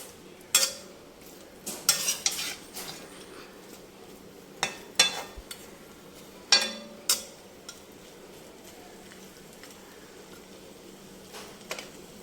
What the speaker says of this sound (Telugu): ఈ పక్క చికెన్ ఫ్రై వేగుతుంది.